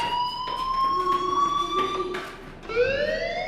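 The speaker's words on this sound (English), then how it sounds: "do you hear that fire alarm?" A fire alarm blares in a school building in the Life is Strange game, a loud wailing tone that rises steadily, cuts off briefly, then sweeps up again.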